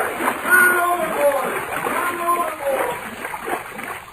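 A man splashes as he falls into water in an old radio drama episode, a loud messy churn of water with sloshing that carries on for a few seconds, voices crying out over it.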